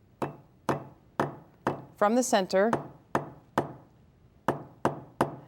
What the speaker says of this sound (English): take your hammer and draw the wire out